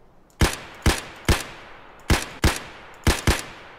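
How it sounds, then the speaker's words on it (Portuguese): Gunfire in the shooter game Escape from Tarkov: seven sharp, loud single shots in uneven groups of three, two and two, each with a short decaying tail, over quiet background. "Eu acertei 7 tiros de mano, FPS."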